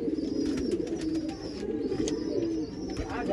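Desi pigeons kept in a Punjab loft coo in a low, steady murmur throughout, several birds overlapping close by with a faint higher chirp now and then.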